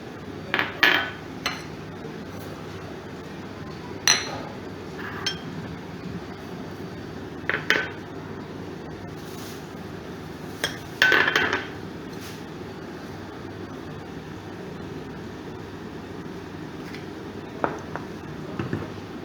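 Kadhi pakora batter of besan, onion and mint is mixed in a big bowl, giving scattered clinks and taps of utensil against the bowl over a quiet steady background, fairly close and intermittent.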